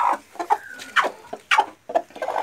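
A hen clucks close by in a backyard pen, giving a series of short, abrupt clucks and squawks in uneven bursts with brief quiet gaps between them.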